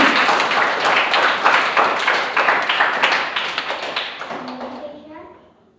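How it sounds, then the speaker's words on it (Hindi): Loud applause from an audience at a children's event, dense clapping that starts at full strength and fades out over about five seconds. "उसके लिए एक बार सभी जोरदार ताली बजाएंगे"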